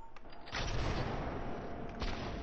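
Video game gunfire shooting through a wall: a quick, fairly faint burst of rapid shots with a low rumble, no voices over it.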